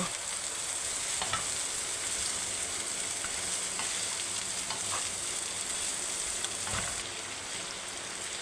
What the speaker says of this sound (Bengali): এগুলো দিয়ে ভালো করে নেড়ে চেড়ে নেব তারপর এগুলো নেড়ে চেড়ে একটু সিদ্ধ করে নেব